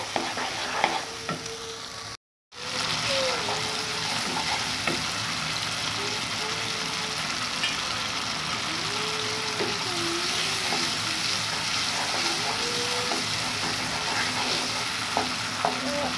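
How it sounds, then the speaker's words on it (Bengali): Spiced food frying in a pan with ground cumin, stirred repeatedly so the steady close sizzle is broken by scraping strokes of the spoon, with a faint tonal hum underneath and no speech. "তো দিয়ে দেওয়ার পরে এখন একটু আমি নেড়ে চেড়ে দিচ্ছি, ভালো করে একটু কষাতে হবে।"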